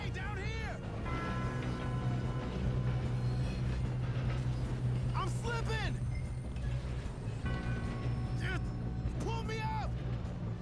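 A train rolls past in the Red Dead Redemption 2 video game, a steady low rumble of rail cars running throughout, mixed with music, other game sounds and people talking over it.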